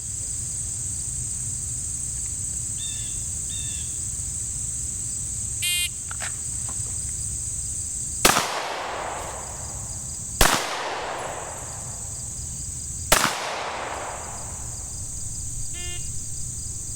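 Three sharp gunshots ring out at a target on an outdoor shooting course, spaced a few seconds apart, each a loud crack with a short echoing tail over steady insect and cricket chirping.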